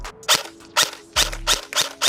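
A KWA EVE-ICE Special Edition airsoft gun firing five sharp, snappy single shots at an even pace, loud and close, each crack followed by a short motor whir, with no talking.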